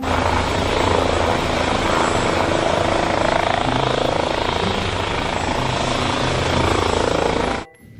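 A helicopter passing with a loud, continuous rotor and engine roar that holds steady for about seven and a half seconds before cutting off abruptly.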